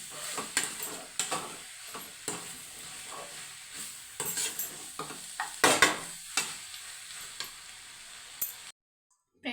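Carrot palya frying in a pan, a soft sizzle broken by frequent spatula scrapes and stirring taps, some stronger bursts midway, ending in a sudden cutoff.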